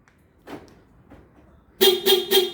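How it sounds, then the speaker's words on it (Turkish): A 2007 Toyota Land Cruiser's horn honks three times in quick succession, loud and close, after a few faint rustling sounds. "Evet 3 korna sesini duyduysak şu an lamba da yanıp sönüyor olması lazım."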